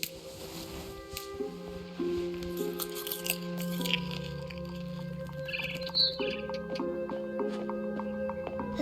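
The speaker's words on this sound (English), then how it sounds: "Then I heard chirping outside my window." Barn swallow chirping in the video game What Remains of Edith Finch: a few thin, quick chirps rise over a sustained tonal musical background with soft crunchy clicks, mid-distance and fairly quiet.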